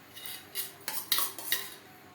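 Metal utensils clink and scrape against a pan while chicken chow mein is mixed with tomato sauce, giving four or five bright, irregular knocks close by with no talking.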